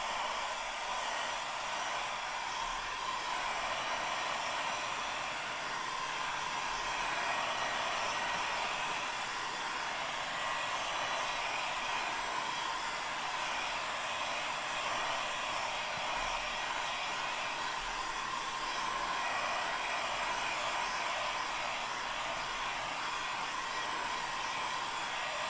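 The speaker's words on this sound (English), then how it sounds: "I'm actually going to hit this with the dryer so the colors don't muddy." Hair dryer blowing on wet paint on a mixed-media collage, a loud steady whooshing hiss running unbroken and close for the whole stretch, with no talk.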